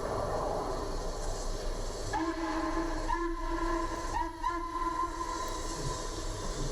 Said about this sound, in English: NW Hooter whistle.